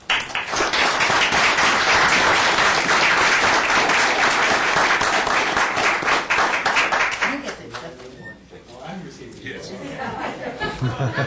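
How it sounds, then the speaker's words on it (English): A city council meeting audience breaks into loud, sustained applause for several seconds, with scattered chuckles and chatter, then the clapping thins out and fades while voices carry on. "let's give them a round of applause"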